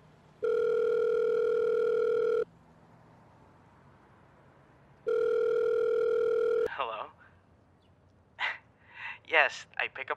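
A telephone dial tone sounds in two steady, loud two-second bursts with a pause between, heard up close after the receiver is lifted, followed by soft rustling and handling noises.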